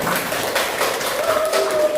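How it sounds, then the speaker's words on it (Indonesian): A class of grade 8 students gives brief applause, a short burst of clapping mixed with some voices and a faint tone, lasting about two seconds. "Tepuk tangan untuk kelas 8 semuanya."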